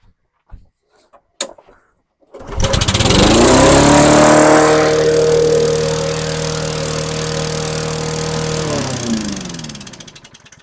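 A lawn mower fitted with a swapped-in replacement engine starts after a few clicks and runs loud and steady at a slightly high, fast idle for several seconds before cutting off near the end.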